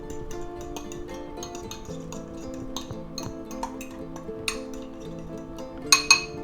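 Metal utensil clinks and scrapes against a bowl while beaten egg mixture is stirred together with cheddar cheese in a home kitchen, a steady run of light taps building to a few sharper clinks near the end.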